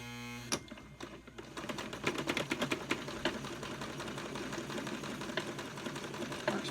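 A Brother Boutique 751 sewing machine running a test stitch, a fast, steady mechanical clatter of rapid needle strokes that starts with a sharp click and continues at an even rhythm, fairly quiet and close.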